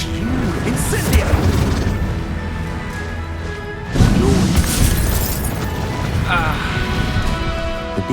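Incendio fire spell cast in the Hogwarts Legacy video game, a burst of whooshing flame and crashing impacts over busy game audio, with a second strong surge midway, plus scattered voice lines.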